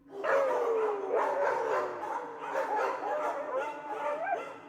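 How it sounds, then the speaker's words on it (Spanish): Many dogs bark, yip and whimper together in an overlapping chorus, fairly close and loud from start to finish. "vio a su alrededor como a unos 50 perros"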